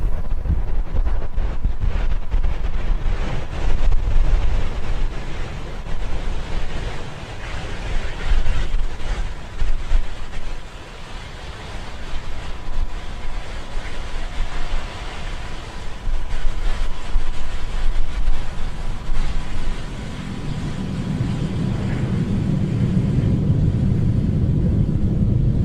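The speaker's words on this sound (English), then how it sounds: "we had successful liftoff of the Falcon-9" Falcon 9 Full Thrust Block 4 rocket carrying Iridium NEXT satellites roaring on ascent: a broad, rumbling, wind-buffeted roar that swells and surges throughout, deepening into a heavy low rumble near the end, with no talk.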